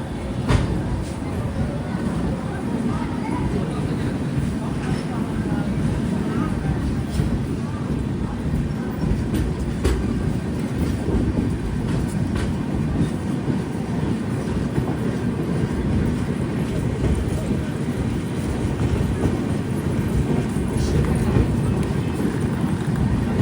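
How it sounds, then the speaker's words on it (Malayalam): A train arriving at a station platform in Bihar, a steady, loud rumble with rhythmic wheel clatter throughout, with faint voices mixed into the noise. "1-ാം നമ്പർ പ്ലാറ്റ്ഫോമിലേക്കാണ് ട്രെയിൻ വന്നത്."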